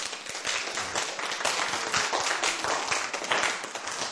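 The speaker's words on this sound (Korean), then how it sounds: "박수 치세요." An audience at a Korean seminar claps together, a dense, continuous wash of hand claps at fairly even strength throughout, with no speech over it.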